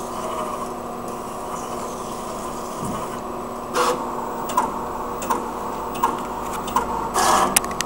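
A vinyl sticker plotter hums steadily as it searches for a piece of foil, with a series of sharp clicks and short mechanical bursts roughly every second toward the end.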